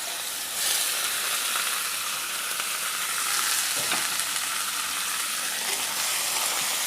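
Chopped onions fry in hot oil in a wok for a small-fish curry, giving a steady, close, bright sizzle that holds evenly throughout with no talking.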